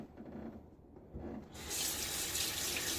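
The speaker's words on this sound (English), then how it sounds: "let's add a little bit more water to that" Tap water running into a sink to thin shaving soap, a soft trickle that suddenly opens into a louder, steady hissing gush halfway through, close and alone without talk.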